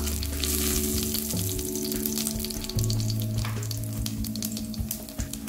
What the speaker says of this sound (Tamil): எண்ணெய் நல்லா சூடாயிடுச்சு இப்போ கடுகு வெந்தயம் ரெண்டு காஞ்சி மிளகாய்